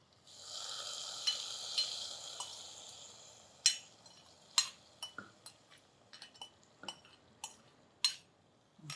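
Raisins and cashews fry in a pan on a stove, giving a soft steady sizzle under scattered sharp clinks and scrapes of a metal spoon against the pan, close and fairly loud, with no talking.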